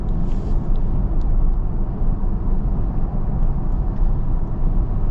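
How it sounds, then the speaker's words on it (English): Steady tire roar on the road inside a moving 2025 Toyota 4Runner SR5, a dense, even low rumble filling the cabin with no breaks and no talking. "There is a bit of noise from these tires."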